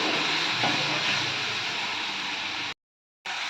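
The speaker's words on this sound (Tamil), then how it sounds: "இந்த மாதிரி வதக்குனீங்கன்னா தக்காளி வேகமாக வதங்கிடும்." Chopped tomatoes with salt sizzle steadily in a hot pan, a continuous even hiss of frying held close, then a brief dropout of complete silence before the sizzle resumes.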